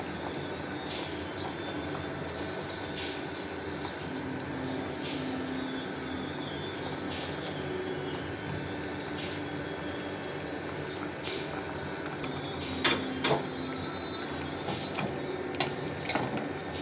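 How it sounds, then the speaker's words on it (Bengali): A small amount of curry is poured from a big pot into another cooking pot, making a steady, close liquid gurgle. A few sharp metallic clinks come near the end. "তরকারিটা আমি অন্য একটা পাতিলায় ঢেলে নিব"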